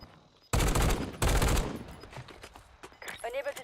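Sudden loud automatic gunfire in Call of Duty: Warzone, two heavy bursts close by, followed by scattered quieter shots and a voice speaking over the fading exchange.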